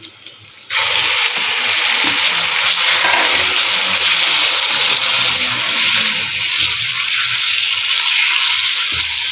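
Chicken pieces for a restaurant-style jalfrezi drop into hot oil that has turned light golden, setting off a sudden loud, dense sizzle that continues strongly and steadily close by.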